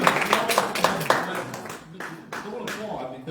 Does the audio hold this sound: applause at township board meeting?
yes